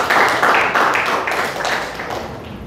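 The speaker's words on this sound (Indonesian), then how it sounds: "Kita berikan tepuk tangan kepada sahabat Ira" Audience applause for a speaker at a PMII gathering, a steady wash of clapping hands that holds fairly loud and even for a few seconds before easing off slightly toward the end.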